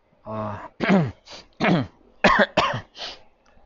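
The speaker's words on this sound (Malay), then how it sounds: "batuk sikit" A run of several short, harsh coughs and throat-clearing bursts in quick succession, close and fairly loud, with brief pauses between them.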